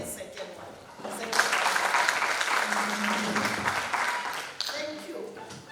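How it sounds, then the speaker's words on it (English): A room full of people at an electoral commission roadshow meeting in Limpopo breaks into sustained applause that swells and holds for several seconds, with a voice speaking briefly at the start and end. "Let's give her a second one."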